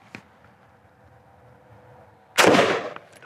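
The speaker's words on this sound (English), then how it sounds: "M193 out of a 20-inch barrel at 15 meters, take two" A single loud rifle shot from an M193 round fired out of a 20-inch barrel at a target 15 meters away cracks sharply after a quiet outdoor stretch, leaving a short ringing decay.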